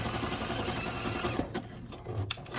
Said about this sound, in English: I can go ahead and zigzag all the way up to that top corner